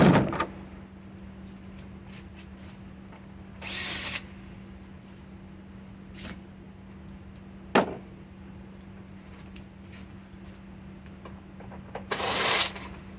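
A power drill backs out T20 screws from a 2012 Volkswagen CC headlight, with a few short high whirring bursts separated by quiet stretches over a steady low hum.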